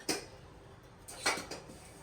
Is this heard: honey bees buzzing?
no